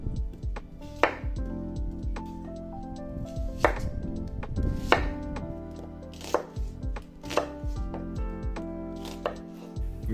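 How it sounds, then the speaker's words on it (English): A knife thuds on a cutting board in uneven bursts of rough chops through a whole head of garlic and two small onions for a Jamaican green seasoning, sharp close strikes with short pauses and no talk. "For that we need a whole head of garlic, 2 small onions, which I'm going to give some rough cuts."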